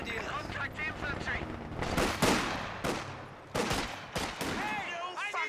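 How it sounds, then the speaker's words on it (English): Gunfire in the Company of Heroes 2 strategy game with the Spearhead mod, infantry combat: repeated sharp shots and bursts cut across a dense battle din, with voices talking over much of it. "Taking enemy fire."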